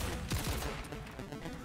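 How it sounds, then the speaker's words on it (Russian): Robocop's hand cannon firing in Mortal Kombat 11, a short heavy burst of two quick blasts up front that then fades into a low rumbling tail. "Ручная пушка для разгона толпы"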